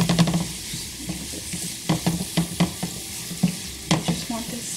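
Sliced scallions fry in a pan with a continuous hiss and sizzle, broken by repeated utensil scrapes and clacks as they are stirred.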